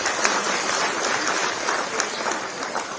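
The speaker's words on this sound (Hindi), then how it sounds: "आपको ताली बजा दीजिए" An audience at a public cultural event in Uttarakhand claps together, a dense, steady wash of applause filling the whole stretch at close, even loudness with no voices over it.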